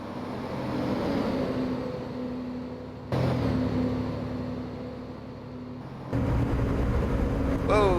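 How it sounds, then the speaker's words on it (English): A truck in American Truck Simulator rolls past a fixed roadside camera, a steady low engine drone and road rumble that swells in two stepped surges as it nears and passes, with game music or voices faintly underneath. "That drive-by camera, that sounds so good when the truck goes by."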